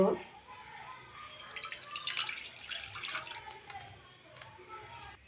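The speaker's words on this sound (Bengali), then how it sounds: "কড়াইতে একটু পানি দিয়ে দিব" A little water is poured into a wok of frying nuts and puffed rice, a short splash and trickle with faint clatter and a quiet voice in the background.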